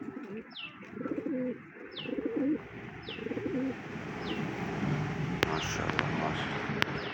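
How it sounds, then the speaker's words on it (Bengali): Pigeons coo in low, repeated rolling phrases while eating their morning feed, with light chirps and outdoor ambience around them; the cooing fades after a few seconds. "আমার কবুতরগুলো"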